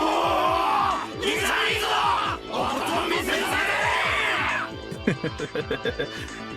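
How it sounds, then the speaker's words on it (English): Crowd at the Watanagashi festival in the visual novel Higurashi, a loud burst of wild yelling and cheering that swells and drops twice, then gives way to a series of sharp percussive beats. "The crowd went wild when they saw our conversation."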